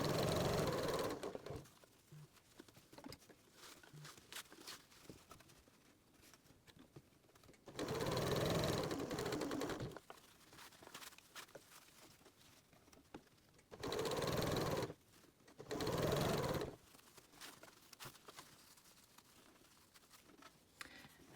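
A sewing machine stitches fabric for a scrunchie in three steady whirring runs of a few seconds each, with quieter handling and shuffling of fabric between them.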